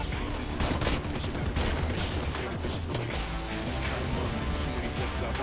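Dense, sustained gunfire from a GTA-style mobile shooting game, rapid overlapping shots and crashing impacts running continuously at a loud, steady level with no pauses.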